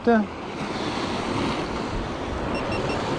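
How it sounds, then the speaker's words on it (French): Large sea waves breaking on the shore during an evening sea-fishing outing with lures, a loud continuous roar of surf and spray with wind noise, a brief tonal sound at the start. "Alors là il y a des grosses vagues quand même."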